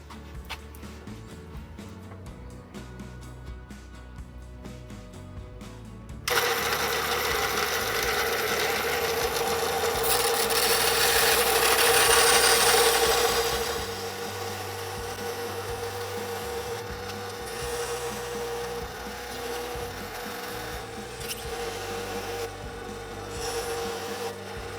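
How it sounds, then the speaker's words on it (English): An Inland Craft diamond bandsaw cuts Montana agate for a pendant: after a quiet start the saw starts up into a steady grinding whine, which swells louder while the blade bites the stone and then eases back. "I'm using Inland Craft Diamond bandsaw for that. And so I'll get that fired up and we'll cut it out."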